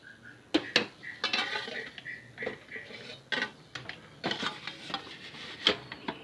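A pot of washed rice set into a rice cooker with a series of close metallic clinks, knocks and scrapes at an irregular pace, fairly quiet and with no talking.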